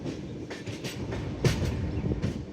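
Capital Express passenger train rolling into New Jalpaiguri station, a steady low rumble of rail carriages with rhythmic clickety-clack of wheels over rail joints and a sharper clunk midway, heard close from on board with no talking.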